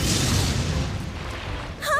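A deep, booming explosion in an anime battle, with a heavy low rumble that slowly settles away.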